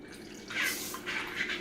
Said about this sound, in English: we're just gonna pour this on the chicken